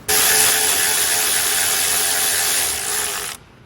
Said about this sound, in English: going to use a little bit of power tools here instead of the by hand method